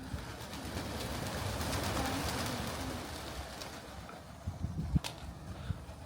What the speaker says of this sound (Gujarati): પણ બહુ જ કબૂતર આવ્યું છે આજે